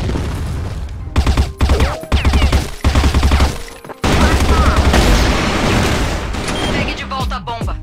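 Gunfire in an online shooter game, rapid bursts of automatic fire with loud booms, the shots coming in clustered volleys and then a sustained barrage near and loud, with a voice speaking at times.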